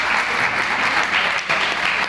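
Loud, dense applause from an audience at a hotel staff training program, continuous clapping filling the short stretch with no talk over it.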